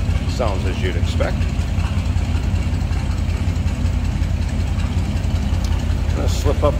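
A 1945 Chevrolet AK truck's inline six idles in neutral with a steady, throbbing low rumble nearby, while someone talks briefly over it at the start and end.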